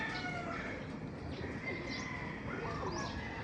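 Pet pigeons landing back home after a flight, with soft, steady cooing and chirps close by against a constant background hiss, with no talking.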